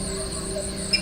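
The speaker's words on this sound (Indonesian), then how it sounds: "hanya berteman jangkrik dan hati yang sunyi." Crickets chirp steadily at night in a remote village without electricity, a continuous high, even trill with no voices.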